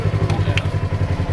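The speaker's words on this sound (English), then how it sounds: "Still got to press the brake to start these." A 2024 Polaris RZR XP 1000 side-by-side engine running at a steady low, pulsing idle right after starting, close and fairly loud, with a couple of brief clicks over the chugging rhythm.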